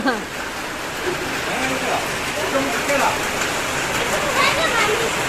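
Rain falls in a constant wash of noise while someone talks and other people chatter and laugh close by over the top.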